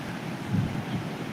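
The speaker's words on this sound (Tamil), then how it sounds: "காற்று சவுண்டை மட்டும் பாருங்கள் எவ்வளோ ஸ்பீடாக அடிக்குது" Steady blustery wind ahead of rain roars against the microphone, a low rumbling rush with no clear gusts, continuous throughout.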